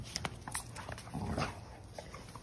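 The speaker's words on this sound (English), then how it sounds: "I love my dogs." Pet dogs playing nearby, giving short whimpers and yips in quick irregular bursts at moderate volume, with no talking.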